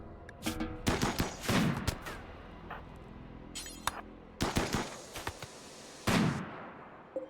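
Gunshots in RimWorld fire in separate bursts of sharp cracks, some in quick runs and some single, with short quiet gaps between them and no talking.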